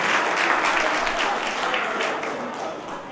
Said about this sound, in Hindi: देवियों और सज्जनों, एक बार ताली तो बजा दो